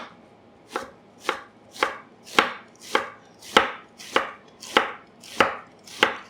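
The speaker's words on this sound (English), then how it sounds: "You're going to take your knife and you're just going to kind of like shave, almost like you're making coleslaw." A knife shaves cabbage on a cutting board while preparing pork tonkatsu, making ten evenly spaced, crisp slicing strokes that are close and fairly loud, with no voices.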